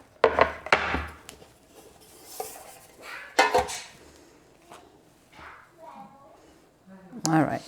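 Homemade banana walnut bread is worked out of a metal loaf pan, with sharp clanks and knocks of the pan and utensil and softer scraping between them. The sounds come in a few separate bursts, close by, with a voice talking.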